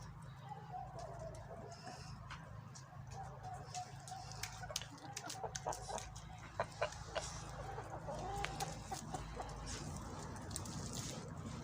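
In a January farmyard in Kyiv region, Ukraine, chickens cluck and a young rooster calls at a distance over a steady low rumble, with scattered sharp ticks and clicks; no one speaks.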